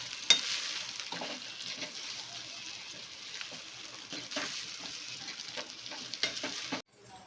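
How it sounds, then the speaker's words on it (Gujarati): Bottle gourd muthiya pieces being stirred in a hot tempering, with a steady close sizzle, soft scraping and stirring sounds, and no talking. "આ રીતે ઉપર નીચે હલાવી સરસ બધું મિક્સ કરી લેવાનું."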